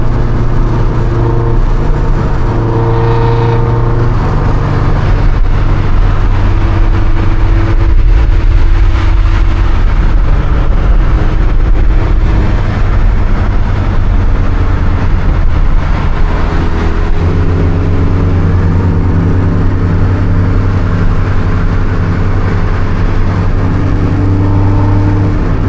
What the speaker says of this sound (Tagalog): Sobrang sarap na lang engine.